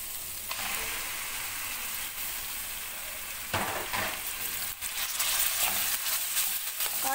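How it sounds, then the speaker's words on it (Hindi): Spices fry in a pan before chicken is added, giving a continuous soft sizzle and crackle with occasional louder bursts and scraping stirs. "बस अभी एक दो मिनट इसको फ्राई करके खुशबू आने लग गई है इसकी"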